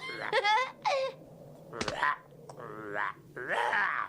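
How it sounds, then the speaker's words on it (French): A female frog croaks in a Dragon Ball Z video game, giving several short, throaty, voice-like croaks in quick bursts with brief gaps between them. "Une grenouille femelle."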